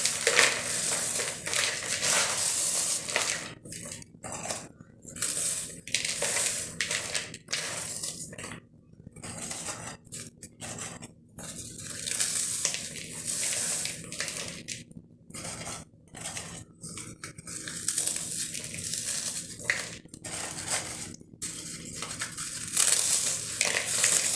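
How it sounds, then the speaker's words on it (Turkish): Biscuits crushed by hand inside a bowl for biscuit balls, a steady run of close, crackling crunches and crumbling snaps with brief pauses, continuing for the whole stretch without talk. "Şimdi ben bisküvilerimi kabımın içerisine alıp kırmaya başlıyorum."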